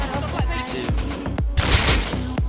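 Rapid gunfire in the video game Rust, a dense run of sharp shots and bursts in close succession, loud throughout a short fight with no talk.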